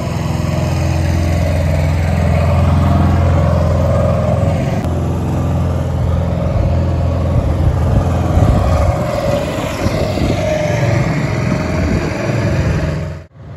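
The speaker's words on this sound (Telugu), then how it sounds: "సో బోట్లా మేముండే రూమ్కి అయితే వెళ్తున్నాం" A motorboat engine drones loud and steady on a backwaters ride in Alleppey, a continuous buzzing hum with churning water beneath, slightly shifting in pitch before cutting off at the end.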